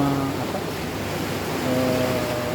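Waves wash continuously onto an eroding beach lined with wooden piling breakwaters, a broad steady roar of surf with a faint low hum underneath and no speech.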